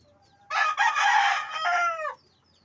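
A White Leg gamefowl rooster from a game farm crows loudly and close by, a single long call of about a second and a half that trails off at the end, with a quick cluck-like break near the start.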